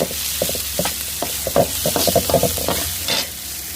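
Tomato and chickpea greens fry in a pan, with a constant sizzle broken by repeated clacks and scrapes of stirring, close and fairly loud.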